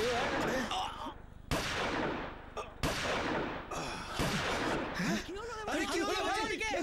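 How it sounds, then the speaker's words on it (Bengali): Several sharp, loud gunshot-like cracks at irregular intervals, with agitated voices and crowd noise in between. "এটা বোমের আওয়াজ নয়, এটা গুলির আওয়াজ মনে হচ্ছে।"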